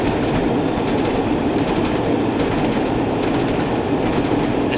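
Class 47 diesel locomotive running in Train Sim World on the North Trans-Pennine route, a steady loud rumble with rhythmic wheel clatter over rail joints, continuous and close, with no talking.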